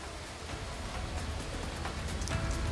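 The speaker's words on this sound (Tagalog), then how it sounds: "tuloy-tuloy ang nararanasan naming pag-ulan dito, partikular dito sa Legazpi City" Continuous rain in Legazpi City, Albay, falling as a steady dense hiss of drops on surfaces that holds level throughout, with no voices over it.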